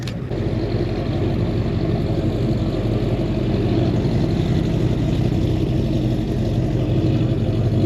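At a Texas car meet, a Mopar car engine idles with a loud, rough, continuous rumble close to the listener, carrying on steadily throughout with no clear talk.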